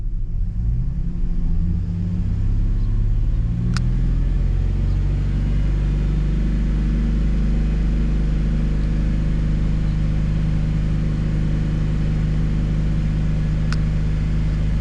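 A 2007 Chevy Silverado pickup with a 4.3L engine that has a lean condition on both banks is held at raised RPM. It gives a loud, steady, close engine drone with a low rumble throughout and no speech.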